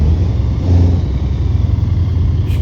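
A Scania R580 V8 truck engine in Euro Truck Simulator 2 rumbles steadily with a deep, loud drone and slight swelling in revs, heard alone with no talking.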